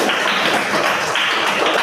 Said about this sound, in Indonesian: kasih aplaus untuk teman kita